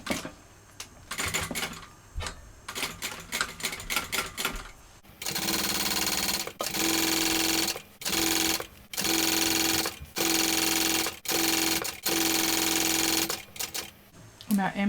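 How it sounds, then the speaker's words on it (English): A sewing machine stitches a bag with a size 21 needle, starting with short clattering bursts, then running in long steady whirring stretches broken by brief pauses. "I'm going to sew that 1/8 of an inch from the open edge to begin with"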